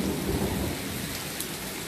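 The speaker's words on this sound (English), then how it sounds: "Y'all hear that thunder?" Rainstorm with thunder, a steady broadband wash of rain and a low rumbling roll sitting beneath it, loud and close throughout the short stretch with no voices.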